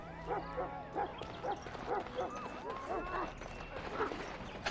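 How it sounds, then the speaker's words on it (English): A dog barks repeatedly in the medieval fantasy game Dragon Age: Origins, a string of mid-distance barks and yips in an uneven rhythm over low background ambience. "You can hear the dog barking."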